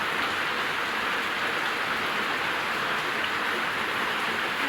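Heavy rain pours down in a dense, constant hiss of drops striking surfaces, steady and unbroken with no voices.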